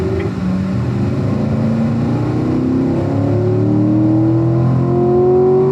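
A race car engine at a driving school on a racetrack accelerates under full throttle, a loud close droning roar with rising pitch that climbs steadily and holds strong throughout.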